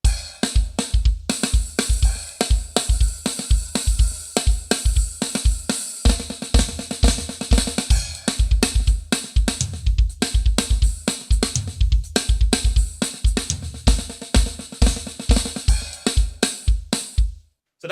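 A loud, busy drum kit pattern with flams played in a makossa or salsa groove, steady driving kick and snare hits with dense cymbal wash, continuous and close with no talking.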